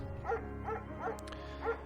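Mayhem, a shepherd dog in the video game Firewatch, barks four times at an even pace, each bark clear and moderately close over a low steady background hum.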